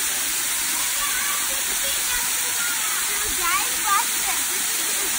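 Steady broadband rush of the cold-water waterfall at Stillhouse Hollow Falls, continuous and fairly close, with faint voices and a brief splash or louder burst near the end.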